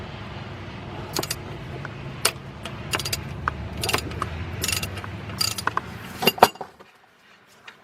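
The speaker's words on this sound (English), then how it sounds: "Let's get our 1/2-inch wrench." Half-inch ratchet wrench clicking on a car engine during timing chain work on a Chevy/Pontiac/Saturn four-cylinder, a series of close metallic ratchet clicks in short bursts over low shop noise, ending with quiet.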